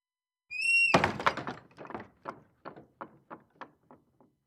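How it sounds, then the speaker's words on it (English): A wooden door gives a brief high creak, then swings and knocks against its frame in a string of hollow thuds that grow fainter and faster until they stop. "His door actually sounds like a barn door."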